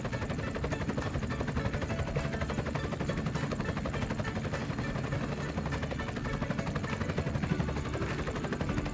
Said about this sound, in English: This is a rescue helicopter.